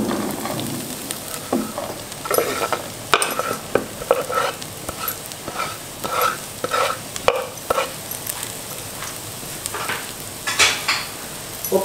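Two chopped onions hit a hot pan for chicken thoran, sizzling softly under repeated scraping and stirring strokes of a spatula, a steady low frying hiss punctuated by irregular clattering bursts.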